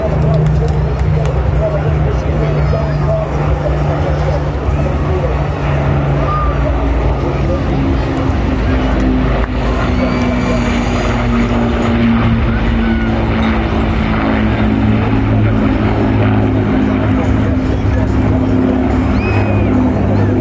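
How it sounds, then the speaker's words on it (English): Four Merlin engines and one Griffon engine drone as the Battle of Britain Memorial Flight flies past at an air show in Ayr, a loud, steady, throbbing roar that continues for a long stretch. "Let's listen to the sounds of 4 Merlins and 1 Griffon engine from the Battle of Britain Memorial"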